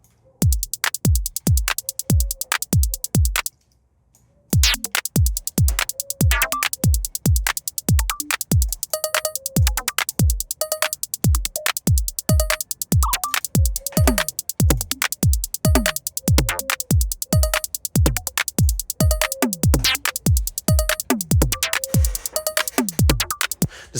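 A glitchy synthesized drum beat programmed in Ableton plays as rapid, punchy kick hits with crisp clicks and hi-hat ticks, briefly cutting out near the start before resuming its steady, looping groove.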